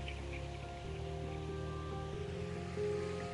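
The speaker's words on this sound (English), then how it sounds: "We've got 1 foot waves." Small one-foot waves wash onto Pawleys Island beach on a flat morning, a steady soft surf rush with low hum underneath, continuous and moderately distant, no voices.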